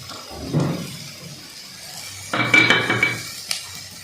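A metal cooking pot lid lifted and set down in a home kitchen while making idiyappam and veg kurma, a soft early clunk followed by a louder ringing metallic clatter and scrape, close and clear.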